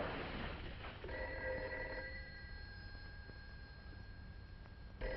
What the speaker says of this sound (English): Of all the cockeyed times for the phone to ring